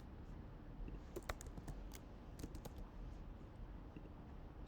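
Code typed on a computer keyboard while working with a Spring Boot post filter and interceptor, heard as light, uneven clusters of key clicks over a steady low hum and background noise.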